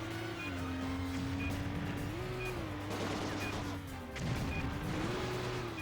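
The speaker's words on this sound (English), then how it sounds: "Get close to the explosion." A droning car engine shifts pitch throughout a driving stunt in the video game Stuntman, then a sudden crashing blast erupts about four seconds in before the engine roar continues.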